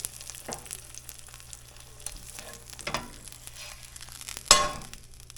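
Eggs cooking in a pan with the heat off give a soft, steady sizzle, punctuated by a few light clinks and scrapes and one sharper clatter near the end.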